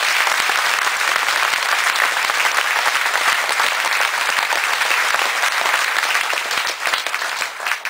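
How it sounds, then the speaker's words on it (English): A large audience gives a sustained round of applause for military and civilian defense personnel at a Veteran's Day event, dense steady clapping that fills the space throughout and eases off slightly near the end. "Let's give them a round of applause"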